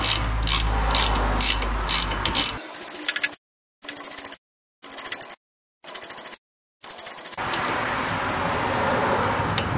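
A large ratchet cranks steadily on the brake caliper bolts of a 1992–1999 Pontiac Bonneville, close and loud. Rapid clicking runs in bursts broken by short silent gaps, then continues.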